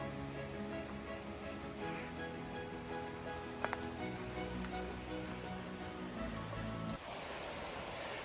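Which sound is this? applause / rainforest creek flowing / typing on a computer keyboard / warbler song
rainforest creek flowing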